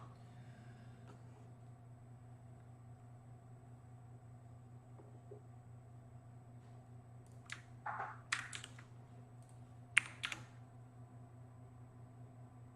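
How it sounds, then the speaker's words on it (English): Clicky mechanical keyboard typing during a coding session, a few short bursts of keystrokes around the middle to end, fairly faint over a steady low hum. "It's his mechanical keyboard."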